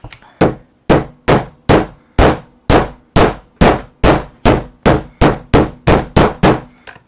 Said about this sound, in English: you can go along the back with a hammer and just hammer that down so that it's flat